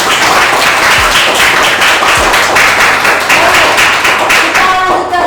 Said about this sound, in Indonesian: Beri tepuk tangan untuk Diandra.